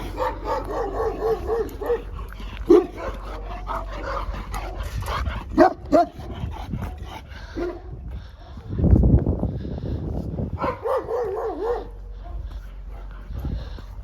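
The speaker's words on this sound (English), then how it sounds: "They've got some dogs in a pen over there that bark their heads off as soon as you get." Dogs in a pen at an animal sanctuary bark and yip repeatedly at moderate distance, with whimpers mixed in and an irregular rhythm. A person talks over the barking, and wind rumbles near the middle.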